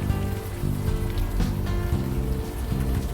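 Steady rain falls across a scene in the adventure game Unavowed, a dense continuous patter that stays even throughout, with a low hum beneath and no voices.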